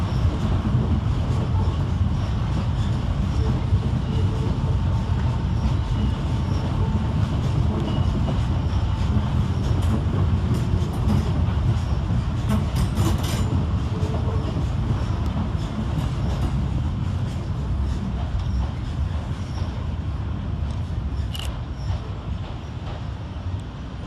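Southeastern electric trains depart London Charing Cross station, a loud steady rumble of wheels and motors filling the station with faint rail squeals and clicks as they pull away.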